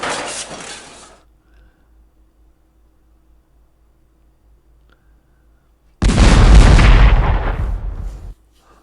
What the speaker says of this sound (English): Russians are pretty good shots with those cannons.